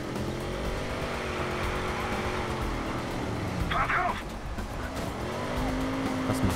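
A car driving in Watch Dogs, with a steady engine drone, pitch sweeps as it accelerates and turns, and a short tire screech midway, under a voice.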